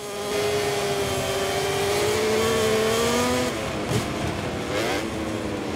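High-pitched racing motorcycle engines in MotoGP 24 at the Austin circuit, a loud sustained whine that rises steadily, then drops and re-climbs through gear changes as the bikes brake and accelerate.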